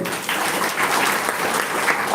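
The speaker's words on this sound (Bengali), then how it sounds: "জোরে হাততালি" A classroom of students claps loudly together in a dense, sustained burst of applause that lasts about two seconds.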